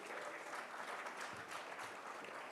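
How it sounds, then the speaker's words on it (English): A brief stretch of dense, even clapping from a book launch audience, many hands together with no pause. "A big round of applause for Doctor once again."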